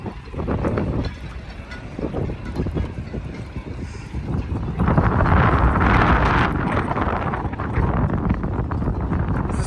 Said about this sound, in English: noise of the boats and the wind going through the masts of the boats.